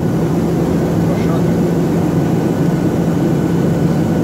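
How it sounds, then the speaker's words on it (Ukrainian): Steady low droning roar of a passenger plane's engines heard from inside the cabin during a flight to Bora Bora, loud and constant throughout. "ми знаходимось на борту літака, який прямує до острова Бора-Бора"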